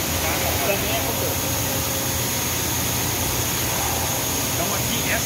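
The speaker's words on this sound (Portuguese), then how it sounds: "essa máquina específica, ela está injetando as pré-formas" An injection moulding machine making preforms at a Tupperware factory gives off a loud, constant industrial drone with a steady mechanical hum and a broad hiss, unbroken throughout, while a voice talks over it.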